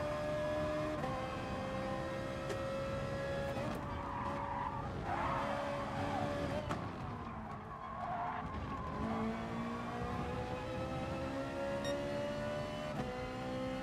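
Tires squeal and slip continuously in Gran Turismo Sport during Gr.4 manufacturer testing at Suzuka, a loud sustained skid over steady engine drone, wavering pitch as grip is lost and regained, with no talk.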